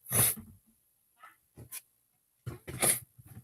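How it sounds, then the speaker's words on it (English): A couple of sharp sneezes burst out close by, separated by quiet breaths and small snuffling sounds. "Hang on, I think I'm about to sneeze."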